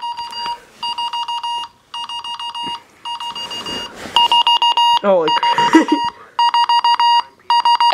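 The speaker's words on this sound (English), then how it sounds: "All right, guys, that's the alarm clock." Radioshack 12-382 weather radio alarm clock sounds its alarm: loud, piercing beep bursts repeating in rapid pulsed groups close to the ear, while a person exclaims and talks over it.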